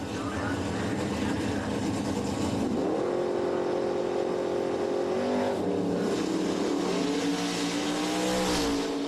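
A 1970 Ford Maverick drag racing car launches at a drag strip, its engine revving up in rising surges and shifting pitch several times, loud and fairly close over crowd and track ambience.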